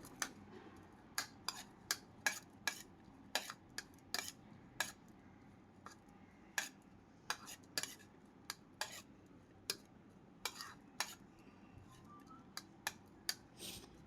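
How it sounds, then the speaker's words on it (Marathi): A spoon stirs a mushroom filling with coriander in a bowl, giving quiet, irregular clinks and taps repeated steadily throughout, close and faint. "चांगलं मिक्स करून घेऊया."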